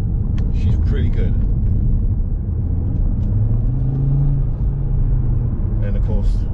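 A car engine rumbles and builds as it accelerates, a loud low drone from inside the cabin with a rising tone midway, while someone talks over it.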